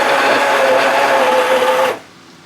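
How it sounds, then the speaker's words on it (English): An immersion blender purees tomatoes, skins and seeds left on, in an 8-cup pitcher for spaghetti sauce, giving a steady loud motor whir that runs for about two seconds and then cuts off abruptly. "And then I'm just going to use the immersion blender,"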